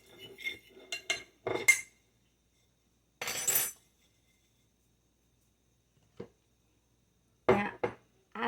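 A utensil clinks and scrapes in a bowl in short bursts as seasoning for pork chops, including garlic powder, is mixed, with long quiet gaps between strokes.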